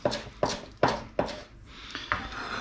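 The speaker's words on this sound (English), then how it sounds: "And then just roughly slice them up." A knife chops spring onion roughly on a cutting board for a Sichuan-style cucumber salad, giving about six sharp, close taps at an uneven, unhurried pace with no talking.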